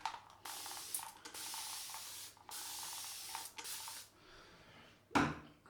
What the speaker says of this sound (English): that spray bottle's brilliant for adding water to the face